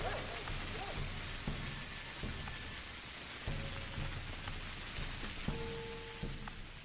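Rain falls steadily in the video game Pathologic, a faint, even hiss of drops on surfaces. Soft game tones and footstep-like thumps recur beneath it.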